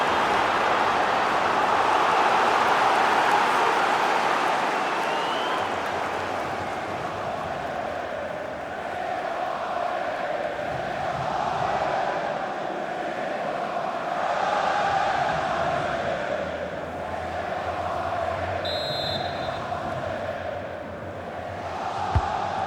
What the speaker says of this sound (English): The crowd are going nuts.